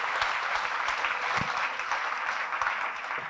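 Applause at the Corrèze business awards evening: a sustained, even wash of many hands clapping, moderately distant and steady, with an occasional louder clap rising out of it.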